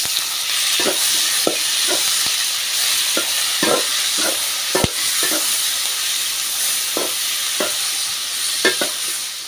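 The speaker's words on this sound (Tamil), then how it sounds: "உப்பு சேர்த்து நல்லா வதக்கி விட்டுருலாம்" Tomatoes and green chilies sauté with salt in a hot pan for a simple Tamil kara kuzhambu, a steady sizzle and hiss broken by repeated scrapes and clinks of a stirring spoon against the pan.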